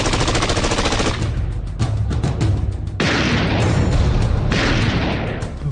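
Machine gun fire from a Kargil war sound effect opens with a rapid, rattling burst, followed by heavy, continuous gunfire and booms that keep roaring loudly throughout.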